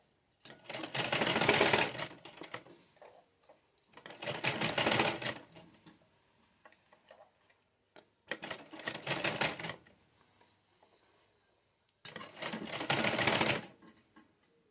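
Sewing machine stitching pleats on a patiala pajama, four separate runs of fast rattling stitching, each a second or two long with quiet gaps between, close and fairly soft.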